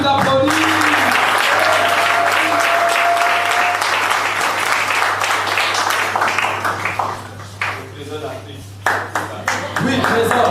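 A seminar audience applauds loudly and continuously, the clapping thinning out toward the end, while voices and brief chatter rise beneath it and a low steady hum runs throughout.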